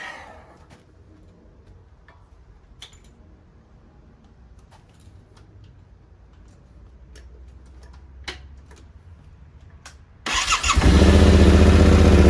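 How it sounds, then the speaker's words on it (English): A Yamaha Tenere 700 motorcycle sits quietly with faint ticks and clicks, then the engine cranks and fires into a loud, steady idle for the last couple of seconds. "now we're gonna start the engine and idle this one"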